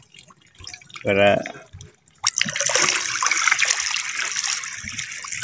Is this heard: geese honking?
no